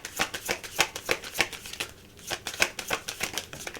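Tarot cards being shuffled by hand make a quick run of crisp riffling flicks, close and fairly loud, with a short pause midway before the shuffling resumes, and nobody speaks.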